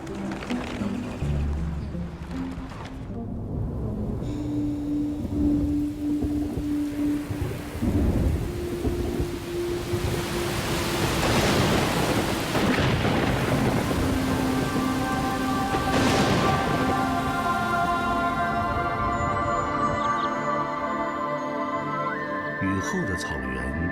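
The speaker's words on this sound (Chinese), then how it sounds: "这下雨了，下雨。" Autumn rain falls on open grassland, a steady patter beneath deep, rolling thunder that swells and rumbles loudly in several long peals, with a voice speaking briefly and faint musical tones underneath.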